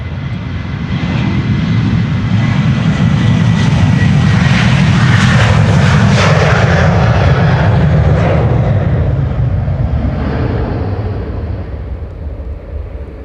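Boeing 737 jet departing Amsterdam Schiphol Airport, a loud, broad roaring engine rumble that swells to a peak mid-way and slowly fades, heard up close with no talk.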